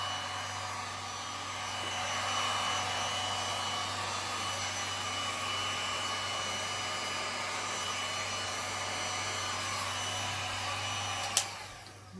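Steady, close whirring blow of a heat gun warming resin poured over a fabric-backed canvas, running continuously with a constant hum and airy hiss, ending in a brief click as it is switched off.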